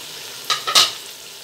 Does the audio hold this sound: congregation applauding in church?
no